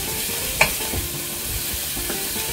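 Green onions and pork belly stir-frying in a pan, a continuous loud sizzle with scraping stirs and a sharp utensil clack near the start.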